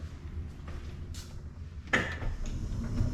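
A minivan's power sliding door closes with a low mechanical whir, faint clicks, then a firm latching thud about two seconds in, followed by a short settling rumble.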